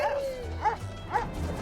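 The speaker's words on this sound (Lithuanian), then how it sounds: "Šunys." Several dogs give short yelping barks, three quick bursts spaced roughly half a second apart, fairly close but not loud, with a faint background hum and no talk.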